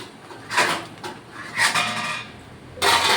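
Roasted spices for a Chettinad chicken gravy scraped from a pan onto a plate, three short bursts of metallic scraping and clinking, close and fairly loud, with no voices.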